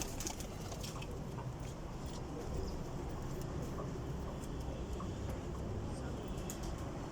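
Faint pigeon cooing from high-quality breeding pigeons, barely rising above steady background hiss and low rumble, with a voice speaking nearby.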